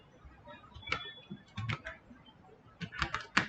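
Keys clacking on a computer keyboard while a shutdown command is entered on a Windows XP machine, in short bursts of quick taps separated by pauses, close and fairly quiet.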